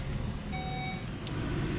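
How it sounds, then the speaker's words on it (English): A 2016 Volvo XC60 T6's 2.0-liter turbocharged and supercharged 4-cylinder engine idles with a steady low rumble, a brief beep tone sounding partway through. "what you're hearing there is a 2-liter turbo and supercharged 4-cylinder engine"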